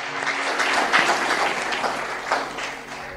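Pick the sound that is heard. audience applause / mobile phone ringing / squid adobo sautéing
audience applause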